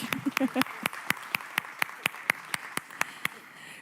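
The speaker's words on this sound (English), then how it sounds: "Let's give them a round of applause" Audience applause for panel speakers at a security talk at ETH Denver: a brief voice at the start, then a steady run of evenly spaced, crisp claps that thin out and stop near the end.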